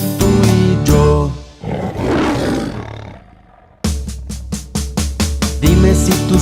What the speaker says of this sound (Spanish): Dime si tú sabes cómo hace el león.